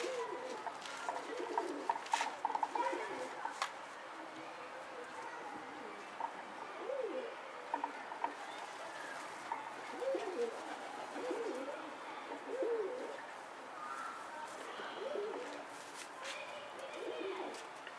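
Pigeons coo in soft, repeated low phrases throughout, close by, with faint chirps and occasional murmured voices in the background.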